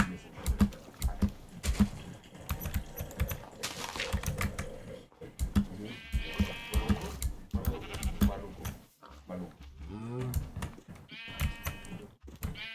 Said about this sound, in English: Is this another light gray sheep?